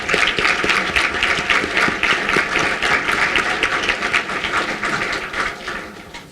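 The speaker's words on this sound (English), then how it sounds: "let's give them another round of applause" A crowd at a university all-campus meeting applauds a class of 1989. Dense, loud clapping is sustained throughout and tapers slightly near the end.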